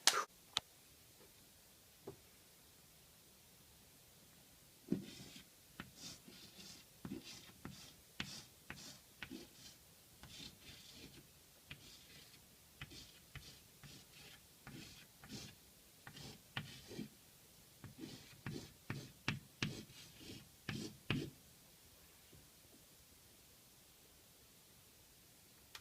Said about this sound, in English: I will cut to a clip of me drawing on the chalkboard paint section